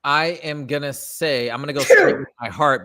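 A single sharp sneeze bursts out midway through steady conversational speech, brief and close, with someone talking before and after it.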